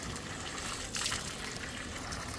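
Water splashes and runs while someone washes their face with warm water during a motorbike trip from Kathmandu to Sailung, a steady close gush with a brief louder splash midway and no talking.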